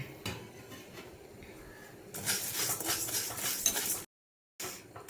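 Black peppercorns tipped into a pan for a coconut-free chammanthi podi and stirred, a soft scraping rattle that grows louder for about two seconds, then cuts out briefly before resuming.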